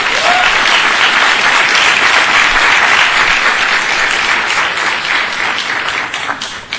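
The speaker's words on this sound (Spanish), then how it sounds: "¿Cuánto da un fuerte aplauso a Jesucristo?" A church congregation gives loud, sustained applause for Jesus Christ during a worship service, dense clapping from a full room that stays strong throughout.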